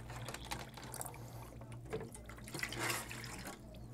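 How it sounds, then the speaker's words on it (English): Water runs steadily from a tap into an ultrasonic cleaner tank holding two bins of parts, a continuous close splashing rush over a low electrical hum. "We'll fill it up with a little bit of water so the parts are covered."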